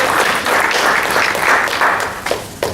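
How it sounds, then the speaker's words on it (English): An audience applauds at a Santa Clara County meeting, loud, dense clapping from many hands, steady throughout and tapering slightly near the end. "let's give her a round of applause as well"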